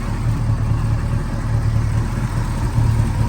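A 1970 Ford Mustang Mach 1 with a 428 Cobra Jet V8 idles close by, a deep, steady rumble with an even low-end lope that holds without revving throughout.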